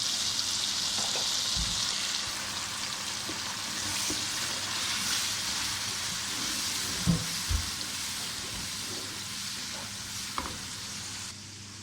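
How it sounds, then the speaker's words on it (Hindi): Steady sizzling of onions frying in a pan, a continuous hiss with occasional soft stirring clinks and scrapes, close by, no talking. "प्याज हमारे फ्राई हो चुके हैं।"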